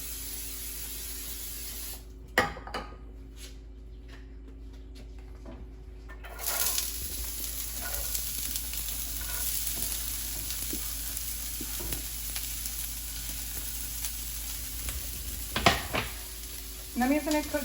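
Vegetables sautéing in a frying pan preheated on medium heat with olive oil cooking spray, for a meatloaf; a steady close sizzle runs throughout, with a quieter stretch early on and occasional spray bursts and utensil clicks.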